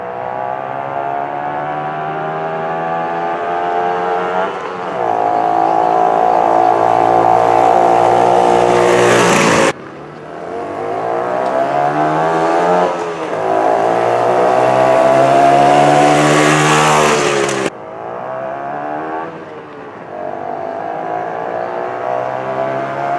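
A Harley-Davidson Hummer ST 165 motorcycle is ridden, its small engine revving up and down through gears in three long loud passes, close and droning with pitch rising and falling, alone without talk.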